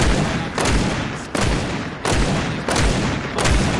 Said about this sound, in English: With that shockwave nade, he